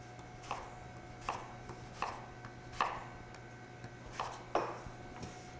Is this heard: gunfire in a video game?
no